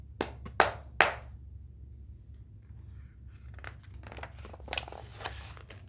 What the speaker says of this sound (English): I am a seal, and I clap my hands.